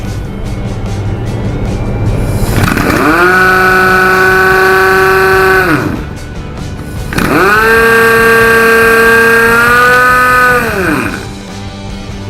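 Power impact wrench run in two long bursts, each a loud rising whine that holds steady for a few seconds and then winds down, with a short pause between; close and dominant over faint background noise.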